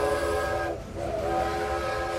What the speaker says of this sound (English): The train's blaring cry